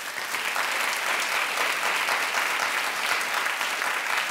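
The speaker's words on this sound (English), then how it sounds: "He clapped loud" Talk show studio audience applause, a dense steady wash of many hands clapping at even loudness from start to finish, with no talk.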